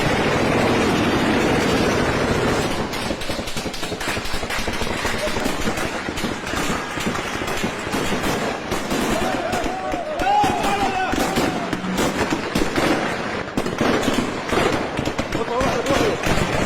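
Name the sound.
heavy gunfire in Syria, news footage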